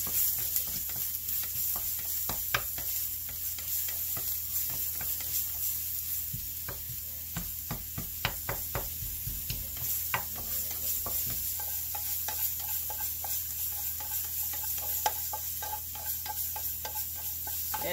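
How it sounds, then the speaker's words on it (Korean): Garlic sautés gently in a pan over low heat: a quiet, even sizzle with a run of small clicking scrapes from a utensil stirring against the pan in the middle. "마늘을 한 스푼을 넣고 마늘향을 내줍니다."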